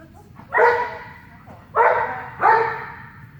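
A dog barks three times in quick succession during an agility training lesson, loud and close, with a short gap before the last two barks.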